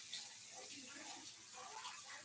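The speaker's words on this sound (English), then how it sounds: "You just run under cold water" Cold tap water runs over lettuce in a strainer as it is rinsed in a kitchen sink, a soft steady splashing that stays fairly faint throughout.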